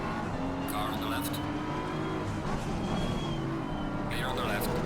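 A BMW race car in Assetto Corsa Competizione, racing at Barcelona, drones steadily with its engine note alongside other cars in a pack, with occasional higher whines and overtaking noise continuing under the whole stretch.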